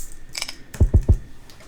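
A computer keyboard is tapped to play notes in music production software: a few soft keystrokes, then three crisp, evenly spaced clicks, close and clear.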